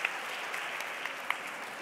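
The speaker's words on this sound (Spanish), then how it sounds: "Aplauso a Carlos." Audience applauding a solar bench design at a presentation, a dense wash of continuous clapping with a few sharper individual claps standing out.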